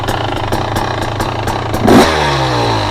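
A fuel-injected KTM dirt bike engine running loud and close, with a brief throttle blip that settles back into a steady idle.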